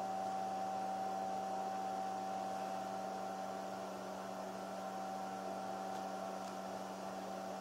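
A small powered cutter and file run on a 20mm triangle pendant, giving a steady, even motor whine with a constant hum that does not change throughout, close and unbroken.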